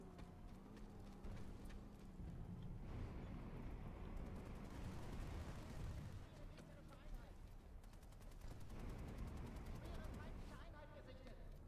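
Gunfire in the PlanetSide 2 online shooter during a base capture, bursts of shots mixed into a dense, constant wash of battle noise with a voice talking over it.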